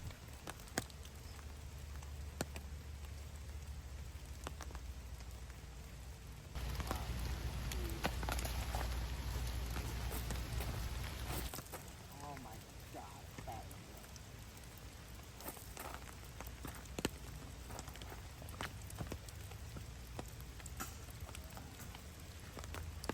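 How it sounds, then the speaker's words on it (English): Rain falls steadily on an outdoor disc golf course during a tournament round, a soft continuous patter with scattered sharper drops, swelling louder for a few seconds midway before easing back. "It's one of the worst parts about playing in the rain"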